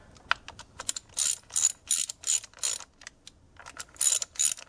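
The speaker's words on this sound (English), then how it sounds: "I put my fingers here on the very head of the ratchet, and I just go around a little bit." A hand ratchet turns in short repeated bursts of crisp clicking during a timing belt job on a Mitsubishi 4G63T engine, close and clear, with brief pauses between strokes.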